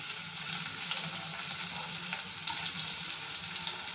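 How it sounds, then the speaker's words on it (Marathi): Crushed garlic and cumin seeds sizzle in hot oil for a village-style dill greens dish, a close, steady, dense frying hiss that runs unbroken with no voices. "लसूण पण जिऱ्याबरोबर छान परतून घेऊयात"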